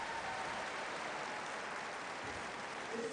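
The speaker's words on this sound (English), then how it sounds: "The crowd are giving him plenty to cheer" Crowd at a Universiade swimming pool cheering and applauding a swimmer after a 400m individual medley heat, a steady, dense wash of distant noise with no clear breaks.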